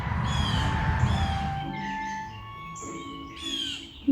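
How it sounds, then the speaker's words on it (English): Birds sing outdoors in warm weather, several clear whistled and chirping calls layered over a soft rumbling background, fairly close and moderately loud, with no talking. "You hear all the birds?"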